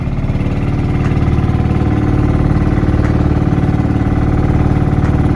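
Small fishing boat engine running out at sea on its way home, a loud close steady low throbbing drone with a fast regular pulse, holding even throughout with no talk.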